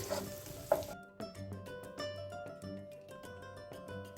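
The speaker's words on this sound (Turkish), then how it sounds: "soğanımızı ve sarımsağımızı kısık ateşte 2-3 dakika kadar kavuruyoruz" Onion and garlic sizzle gently in a pan over low heat for a vegetable soup, a soft crackling hiss under steady background music.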